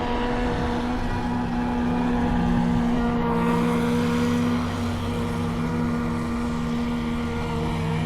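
A radio-controlled boat running on a new electronic speed controller with a small, half-drained battery, its electric motor giving off a loud, steady tonal whine that drones on without pause while the boat moves across the water without getting up on plane.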